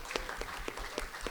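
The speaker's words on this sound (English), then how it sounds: "applause for these two?" Scattered claps from a small audience at a horror convention panel for Art the Clown, with a few sharp hand strikes spaced fairly evenly over a second or so, close and moderately loud.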